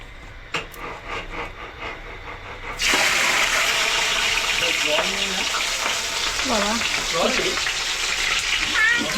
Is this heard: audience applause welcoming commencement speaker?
no